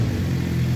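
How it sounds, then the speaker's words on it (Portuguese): A Suzuki GSX motorcycle fitted with a new exhaust idles with a steady, low, even rumble, close and continuous throughout the short moment. "marcha lenta, aqui está o som do escapamento novo"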